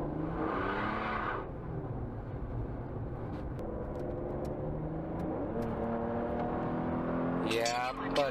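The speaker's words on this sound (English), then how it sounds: "that's such a fun car to drive." Car being driven on a highway, its engine and road noise humming steadily from inside the cabin, with a shift in pitch partway through and brief sharp clicks near the end.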